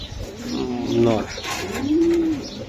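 Low, rolling pigeon coos come in two bursts, close by, with some faint background noise between them.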